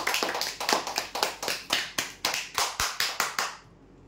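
Applause for a prize draw winner at a weekly draw, about a dozen quick rhythmic bursts of hand claps at moderate level, stopping abruptly near the end.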